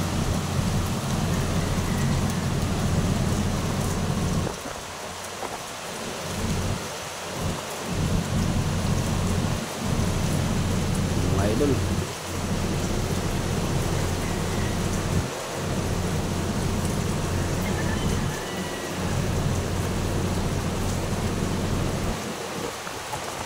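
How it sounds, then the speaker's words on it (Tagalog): Steady, dense typhoon rain roars without pause, with a faint low rumble beneath; a brief word is spoken once partway through. "Yan po, naabutan kami ng bagyo."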